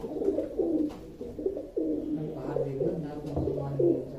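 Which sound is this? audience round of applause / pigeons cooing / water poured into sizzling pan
pigeons cooing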